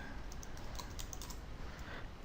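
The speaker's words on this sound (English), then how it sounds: "So I am typing here." Typing on a computer keyboard while entering tax codes into accounting software, a quick, continuous patter of faint key clicks with no talking.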